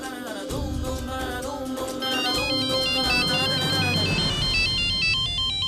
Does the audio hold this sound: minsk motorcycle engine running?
no